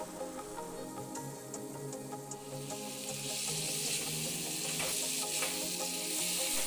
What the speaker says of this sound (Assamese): এতিয়া এইখিনি মই ভালদৰে ভাজি লম ইয়াৰ পৰা তেল নলোৱালৈকে